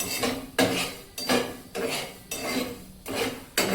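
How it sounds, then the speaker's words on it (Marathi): Coriander seeds dry-roasting in a pan for Udupi sambar masala, stirred in regular rhythmic scrapes that repeat about every half second, close and clear with no talk. "धने चांगले मस्त भाजून घेऊया."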